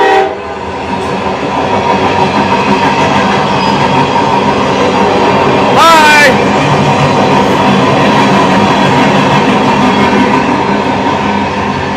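A train rolls past loud and close with a continuous rumbling roar, and a short horn blast sounds about halfway through; one brief spoken word is heard.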